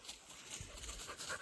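Dogs on a walk along an ice-storm-damaged two-track trail pant in quick, soft, breathy bursts close by, faint overall, with no talking.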